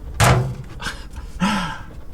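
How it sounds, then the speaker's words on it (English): A microwave cover is lifted and sticks to the top of the microwave: two close, fairly loud thunks about a second apart, with quiet room tone between them. "If I lift this up, hopefully it's going to stick to top of the microwave."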